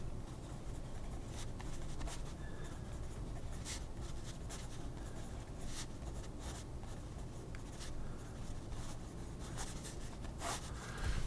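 A pencil scratches across textured Midori paper, a soft continuous scraping with brief stroke accents, close and quiet under a steady low background hum.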